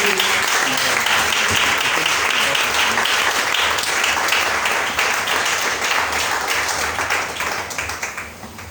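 A church congregation applauds steadily and loudly at a Sunday service, dense clapping with scattered cheers and voices, fading toward the end.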